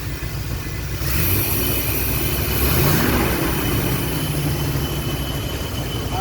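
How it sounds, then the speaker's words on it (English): A car engine with throttle body injection runs steadily with a loud, rough, droning rumble, swelling slightly as it is given a couple of light revs, with no talking. "Let's give it a couple revs."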